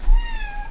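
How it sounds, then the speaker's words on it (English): A house cat gives one short, loud meow close by, a brief rising-then-falling cry with no talk over it. "That's my cat."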